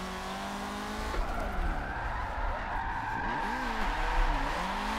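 Tires squeal and skid as a video-game car is thrown into a handbrake drift, engine note rising and falling under the wavering screech, loud and sustained for several seconds with no voices.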